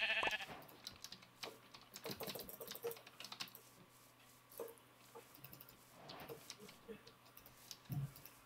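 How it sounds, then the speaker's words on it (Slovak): A gray sheep in Minecraft bleats a few times among scattered game sounds, with rapid keyboard typing clattering throughout at moderate level. "Šedá ovca."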